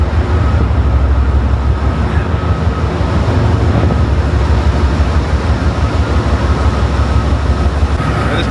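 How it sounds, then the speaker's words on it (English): A loud, steady rumble of an Amtrak train in a Chicago station, continuous low mechanical drone with no pauses or speech. "See it here where all the trains come in, all the Amtrak trains."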